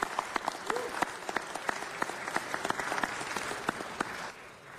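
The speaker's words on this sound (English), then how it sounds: "Let's give him a round of applause, folks." An audience at a Los Angeles city council meeting applauds, a steady wash of many hands clapping with sharp individual claps standing out, fading quickly at the end.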